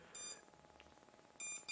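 A SimToo Moment II GPS drone's lost-model alarm sounds in two short bursts of high electronic beeping, one early and one near the end, separated by a quiet gap with faint ticking.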